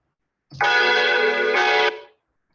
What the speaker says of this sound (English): So we get the bells, which probably you all detect